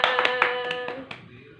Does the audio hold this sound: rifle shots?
no